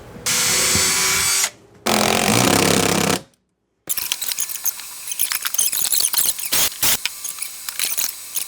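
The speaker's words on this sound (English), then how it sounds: "So I've got 2 of the screws done, and they're going in here and there. Now I'm going to put a third one right there." Power drill driving a screw into a prefab store-bought wall cabinet during a mobile home remodel: two loud sustained whirring bursts, a brief silence, then scattered clicks and handling knocks close by.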